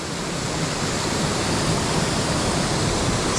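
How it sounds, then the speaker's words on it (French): A large waterfall tumbles into a rocky gorge on a trout-fishing river, making a dense, loud, steady roar of rushing water close by, with no talking. "Là c'est pas de la petite cascade."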